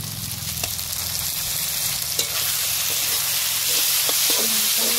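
Ginger-garlic paste sizzles as it fries with onion greens in a pan in a village kitchen, a steady hissing fry that grows slightly louder, with an occasional knock of the stirring utensil.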